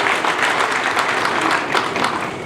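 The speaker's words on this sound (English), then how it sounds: "I think you should clap for that." An audience at a regional geopolitical security summit applauds in a dense, steady burst of clapping that holds loud throughout.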